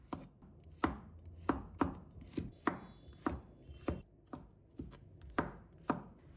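A knife chops shallots into small pieces on a board for a soy sauce chicken leg dish, giving about a dozen sharp, close, evenly spaced strikes with no voices.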